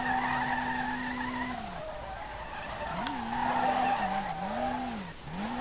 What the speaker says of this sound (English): we're getting fourth gear drift, man